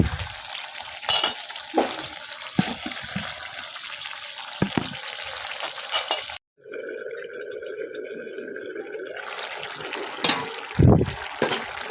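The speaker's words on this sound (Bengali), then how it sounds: "তো এখন আমি মাছ দিয়ে দিই, জল দিয়ে দিই।" Fish and water go into a pan of frying snake gourd curry, setting off a sudden burst of loud hissing that settles into a steady sizzle and bubbling after a stretch of stirring and clatter.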